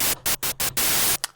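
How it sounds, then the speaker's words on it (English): Stereo white noise from an FL Studio 3x Osc synth, a harsh hiss played in several short bursts and one long sustained burst, cut by brief silent gaps, with no voices. "Ah, lovely white noise."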